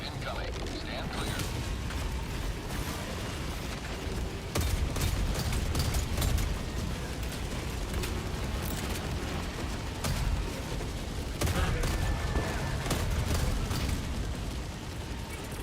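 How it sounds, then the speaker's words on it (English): Orbital barrage in the video game Helldivers 2, a dense, continuous rumble of overlapping explosions with heavier bursts recurring every few seconds, loud and close, with some speech mixed in. "Orbital barrage incoming."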